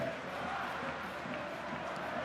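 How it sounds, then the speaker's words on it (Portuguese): A football crowd at a Vasco versus Grêmio Brazilian league match in 2011 chants the name of coach Ricardo Gomes, a dense, continuous roar of many voices heard from a distance as a steady wash. "A torcida grita mais uma vez o nome do técnico Ricardo Gomes."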